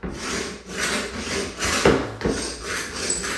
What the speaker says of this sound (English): stripping paint off all this woodwork. I've tried using the paint scraper.